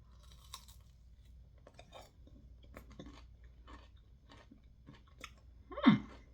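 Someone chews a crunchy homemade cinnamon sugar snack dipped in honey, with close, faint crunching bites repeating irregularly and one louder crunch near the end.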